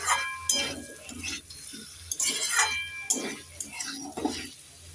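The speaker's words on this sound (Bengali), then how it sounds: "একটু নেড়ে চেড়ে দিয়ে দেব।" Chopped tomatoes stirred in a cooking pan for a bitter gourd and potato curry, with repeated light clinks and scrapes of a utensil against the pan in an irregular rhythm.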